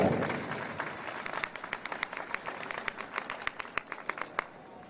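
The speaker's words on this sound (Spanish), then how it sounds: "Ese último aplauso. Fuerte para ella." A crowd applauds a women's cycling race winner at a Estella trophy ceremony, steady dense clapping from near to mid distance with sharp individual claps standing out, fading slightly at the end.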